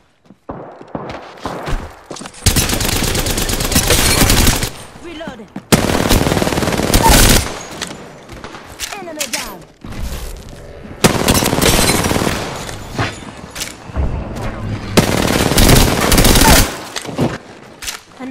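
Automatic machine gun fire in the video game Apex Legends comes in loud, dense sustained bursts of a few seconds each, separated by short gaps with quieter in-game clatter and footsteps.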